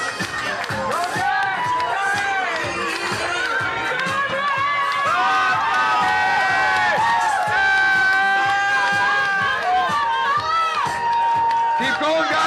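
Crowd cheering and whooping at an oyster shucking contest during an oyster festival, a dense, loud roar of voices and shouts that runs throughout, with an announcer talking over it.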